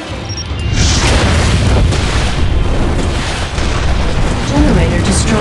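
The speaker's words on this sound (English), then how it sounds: "Airstrike." An airstrike in the mobile game Warfair lands with a heavy, rumbling explosion that swells within the first second and keeps roaring loudly to the end.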